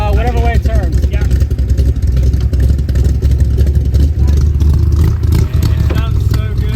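A cold Shelby Cobra's engine revs loudly up close, with a rough, uneven mechanical roar that rises and falls, and voices talk over it in places.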